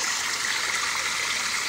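Water flowing steadily in backyard koi ponds, a fast, continuous rushing wash heard close and loud throughout, with no voices over it.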